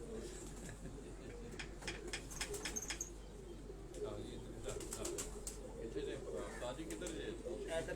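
Pigeons roost on a rooftop in the N Block area of Lahore, their soft cooing and brief wing flutters carrying over steady background noise, with a voice talking intermittently.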